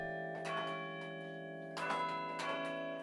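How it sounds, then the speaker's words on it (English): Church bells ring in a few quiet, distant strikes, each leaving a sustained humming tone that slowly fades away. "the sound of a bell doesn't just ring and quit. It rings and then it fades away"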